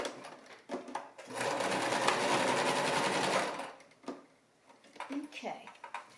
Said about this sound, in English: So let's go back to the machine. Okay, put my needle down.